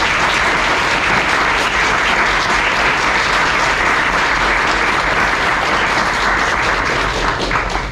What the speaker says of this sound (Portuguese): uma salva de palmas para o Peter.